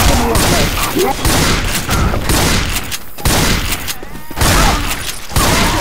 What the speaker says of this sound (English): You are shooting me!